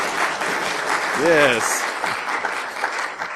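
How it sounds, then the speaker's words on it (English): Audience applause at a network security talk, a short burst of clapping with a voice speaking over it partway through. "Everyone clap."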